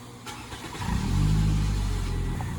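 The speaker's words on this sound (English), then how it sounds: "Can you start the car?" Toyota Camry engine cranks and starts, the idle rising into a steady low rumble that holds close and fairly loud, with no talking.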